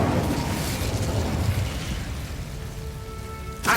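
An Incendio fire spell cast in the video game Hogwarts Legacy gives a rushing, crackling burst of flame that thins out over a few seconds, with a sharp, bright hit right at the end.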